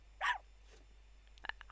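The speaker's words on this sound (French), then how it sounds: "on va jouer avec le toutou" A dog in The Sims 3 video game gives one short sharp bark, followed by faint clicks and small yips, quiet overall.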